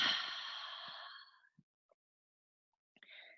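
A long, breathy exhale during a flow yoga class, close and soft, fading out after about a second and a half, followed by faint small breath sounds and a brief inhale.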